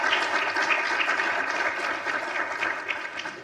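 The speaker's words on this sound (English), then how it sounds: "Round of applause." Conference audience clapping after a talk, a moderate, continuous patter of applause from a modest crowd.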